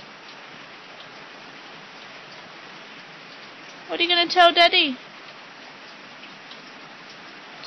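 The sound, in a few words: heavy rain pouring down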